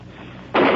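A grenade blast in a radio war drama bursts in abruptly after a quiet stretch, a loud, broad roar that holds to the end.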